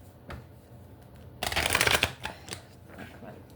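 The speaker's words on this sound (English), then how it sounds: "we're going to do 3 shuffles, then we're going to get to it." Tarot cards being shuffled by hand, a quiet riffle and then a loud burst of shuffling in the middle, followed by a few short softer shuffles, close to the microphone.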